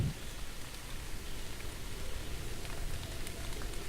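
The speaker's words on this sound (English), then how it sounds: "Ooh, that rain." Steady rain falls at night in the video game The Moon Sliver, a soft, even hiss of drops on surfaces that continues throughout without voices.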